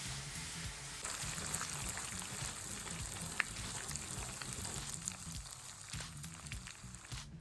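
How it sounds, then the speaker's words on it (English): Unsalted butter melting into golden caramel in a pan gives a steady close sizzle and bubbling crackle throughout, with a few soft stirring clicks. "it's time to add in 80 grams of unsalted butter. Let that melt down, create a beautiful caramel"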